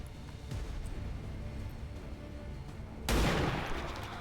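A single sniper rifle shot in XCOM 2 lands with a sudden heavy boom after a stretch of low ambient hum and then decays into a rumbling tail.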